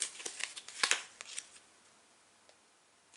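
Tarot cards being shuffled close by, a quick flurry of crisp riffling snaps in the first second and a half, then a few soft scattered flicks fading into quiet.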